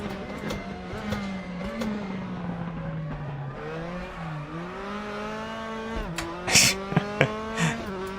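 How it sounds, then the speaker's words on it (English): V8, V10 and V12 race cars in RaceRoom Racing Experience scream past, with a sustained high engine whine that drops and climbs through gear changes, then sharp bursts as more cars blast by. "We've got a couple of each of the different engine types. So we have the V8s, V10s, V12s. So the different noises blasting past us."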